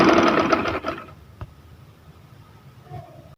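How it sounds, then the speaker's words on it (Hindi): A sewing machine runs fast and loud to stitch the hem of a shalwar trouser with shiny anchor thread, a dense mechanical whir that stops after about a second, followed by quiet room noise and a faint rattle. "सलवार को स्टिच कर देंगे बंद करके।"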